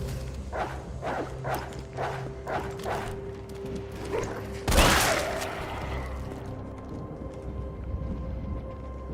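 Zombie dogs in the Resident Evil 3 video game bark in a rapid series of sharp yelps, followed by a loud burst like a gunshot and then lingering low game ambience.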